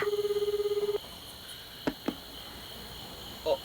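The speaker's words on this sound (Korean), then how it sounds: "그는 다음 날 아침이 돼서야 집에 전화를 했다" An outgoing call home rings through as one brief, warbling telephone ring burst lasting about a second, followed by a quiet line with a few faint clicks.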